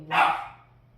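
A small dog gives a single sharp bark close by in a quiet room, fading quickly into a low background hum.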